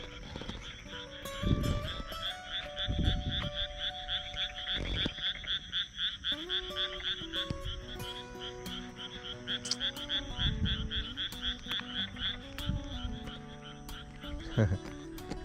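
A steady chorus of frogs croaking after rain in Japan, in pulsing, rhythmic trills, continuous throughout, with a few low thumps nearby.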